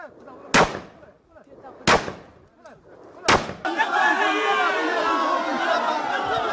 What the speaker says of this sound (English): then shot 9 times as a crowd of men on the hillside cheer